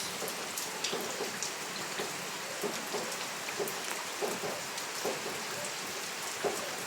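Steady heavy rain from a shear line pours down in a dense, continuous hiss over flooded ground in Camarines Sur, with scattered louder drops and splashes and no voices.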